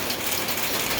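Hot rain falling steadily in the Arizona desert on a sunny 99-degree day, a dense, even hiss of drops pattering on surfaces, constant and close with no voices.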